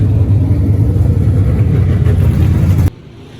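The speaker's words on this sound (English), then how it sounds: "we're just gonna go out there and warm the engine up" An American Stocks race car's engine warms up on a wet, muddy track, holding a loud, steady rumble nearby before cutting off abruptly into near quiet.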